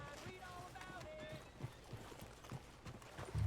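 Horse hooves in the video game Red Dead Redemption 2 clip-clop in an irregular trot beneath a low murmur of background ambience, fairly faint and steady.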